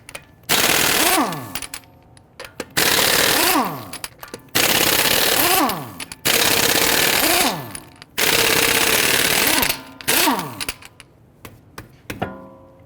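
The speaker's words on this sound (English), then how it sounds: "Using a 22mm socket, let's loosen and remove our lug nuts." Impact wrench with a 22mm socket loosening and removing lug nuts on a Dodge Charger front wheel, five or six loud rattling bursts of a couple of seconds each, with pitch sweeps and short pauses between.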